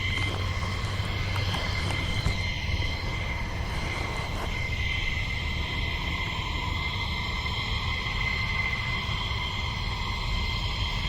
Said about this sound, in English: F-15 that was doing what they do with the arrestor cable